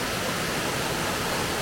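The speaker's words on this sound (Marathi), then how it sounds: "ही अशी ती वहाळ येते" A stream flowing near Padekap waterfall in Kokan, a dense continuous rushing of water, loud and close, steady throughout the short stretch with no voices.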